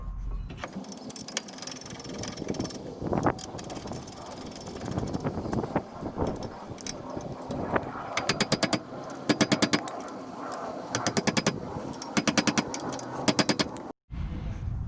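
A power tool drives the front brake caliper mount onto a 2005 Toyota Corolla in a home garage, firing in rapid rattling bursts, loudest and most frequent in the second half, over a steady background of mechanical noise.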